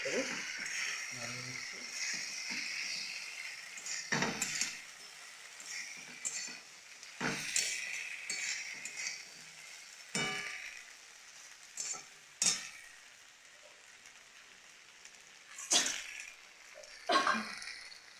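Vegetables for sukta stirred in a frying pan, a steady hissing sizzle broken by repeated scraping strokes of the spatula, close by, with no voice heard.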